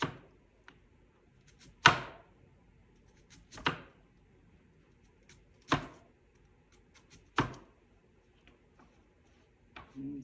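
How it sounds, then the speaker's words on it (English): Onions chopped with a knife on a board, heard as five sharp, spaced thunks roughly two seconds apart, each landing close and clear with a short ring, with faint clicks and handling noise in the quiet between strokes. "I'm the only one that eats onions, so these are being cut for me."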